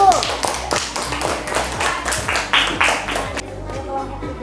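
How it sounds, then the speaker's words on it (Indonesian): Classroom students clap for a group after a presentation, sharp uneven claps and taps close by with some thumps, tapering toward the end. "Tepuk tangan buat kelompok 1."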